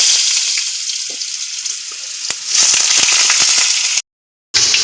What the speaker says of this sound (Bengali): এবার ওই তেলের মধ্যেই আমি আলুটা ভেজে নেব।